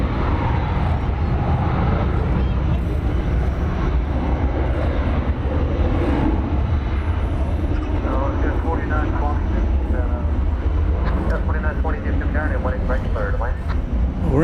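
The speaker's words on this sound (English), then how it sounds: "It's American 1434. This one is going to Vancouver." An American Airlines Boeing 737-800 jet bound for Vancouver, heard at the DFW airport: a steady loud jet engine roar running throughout while someone talks over it.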